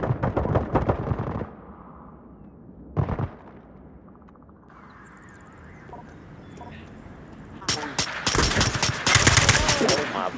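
Loud bursts of rapid automatic gunfire from a shooting game, a long volley at the start, a short burst around three seconds, then a dense sustained barrage near the end after a quieter stretch.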